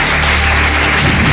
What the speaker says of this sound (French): Chose un tonnerre d'applaudissements